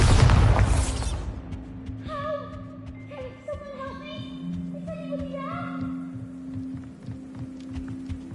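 Bombarda blast spell cast in the game Hogwarts Legacy, a loud booming burst at the very start that quickly fades into humming tones and musical game ambience.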